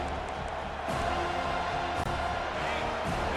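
Stadium crowd at a college football game against Duke, a steady roaring wall of cheering and whoops as the home fans make noise with the opponent pinned deep in their own end.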